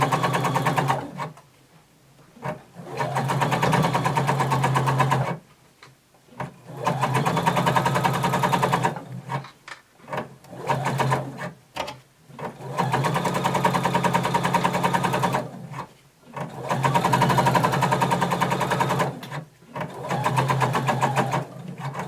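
Sewing machine basting a seam on a flared skirt, running in several sustained bursts of rapid, even stitching separated by short pauses, close and loud.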